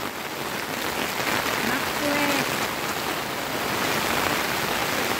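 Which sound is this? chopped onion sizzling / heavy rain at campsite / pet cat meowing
heavy rain at campsite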